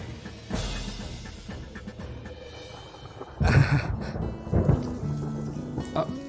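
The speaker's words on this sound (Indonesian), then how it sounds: "kenapa mendadak hujan?" A sudden downpour with rumbling thunder, a loud crack and roll breaking over steady rain, close and strong, with no talk.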